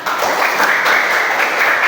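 Students in a classroom give a quick round of applause after group presentations in a religious studies lesson, a brief, even patter of many hands, fairly close and alone without talk.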